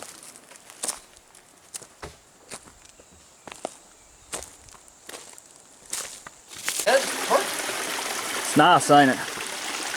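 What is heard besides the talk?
small mountain stream flowing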